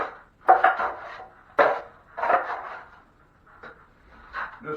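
Drywall knife scraping leftover joint compound mud out of a pan, a handful of short, soft scrapes and knocks with brief gaps, close and moderately loud.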